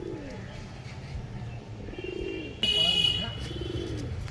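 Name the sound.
pigeons cooing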